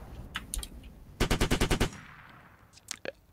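A rapid burst of about seven automatic gunshots rings out in a video game, sharp and close, with a few scattered single shots and clatter before and after.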